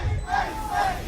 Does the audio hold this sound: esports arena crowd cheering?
yes